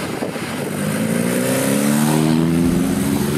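A BMW R nineT motorcycle in A2-restricted form revs up, its engine note climbing and holding loud and close, a steady rising growl with no talk over it.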